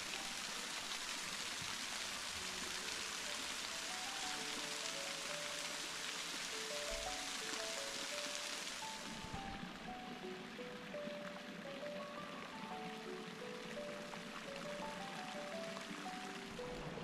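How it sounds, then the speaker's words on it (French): A large waterfall cascades steadily in autumn, giving a loud, unbroken rush of falling water close by. Its brighter hiss softens partway through, and faint tonal sounds rise above the roar. "Elles est toujours splendide ce cascade."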